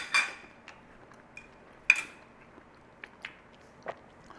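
A spoon cuts through tender cooked beef, giving faint, scattered clinks and soft scrapes of metal against the dish, with a few sharper taps in a quiet room.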